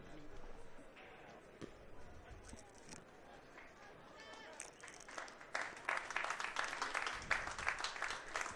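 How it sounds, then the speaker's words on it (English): Spectators applaud at a 10-ball pool match, the clapping starting scattered and soft and then swelling into a fuller, louder round near the end. "Give both players a round of applause for their efforts here."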